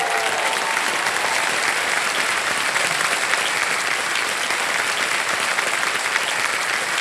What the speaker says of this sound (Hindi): तालियां बजती रहें देवियों सर में।